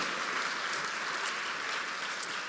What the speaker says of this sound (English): Please give a huge round of applause for Diane and John,